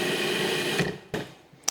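A food processor chopping nuts into a plant-based parmesan whirs loudly and steadily for almost a second, then winds down, followed by a couple of short knocks and clatters.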